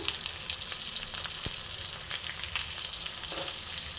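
Potato and pointed gourd sizzle steadily in oil in a pan for fish curry, a continuous bright hiss with a few soft clicks of stirring, close and alone.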